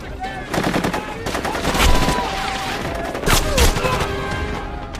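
Rapid automatic gunfire in a film battle between American soldiers and attackers, dense overlapping bursts with heavier booms and impacts, loud and continuous throughout.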